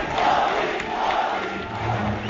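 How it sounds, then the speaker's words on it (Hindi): A large crowd at a Ramdev Bharat Swabhiman rally in Talkatora Stadium chants a leader's name, a dense, steady roar of many voices close by with rhythmic swells and no clear single speaker. "मोदी मोदी के नारे लग रहे थे।"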